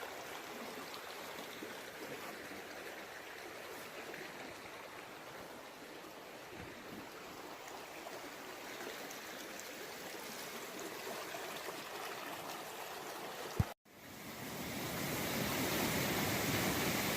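A creek flows through a forest with a steady rushing wash of water, continuous and fairly close, briefly cut off and then resuming louder.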